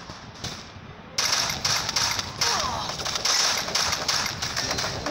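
Gunfire in the mobile battle-royale game Free Fire: a near, continuous stretch of rapid automatic shots with bright sharp cracks, growing louder after a quieter opening second.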